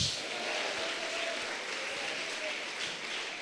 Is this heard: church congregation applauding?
yes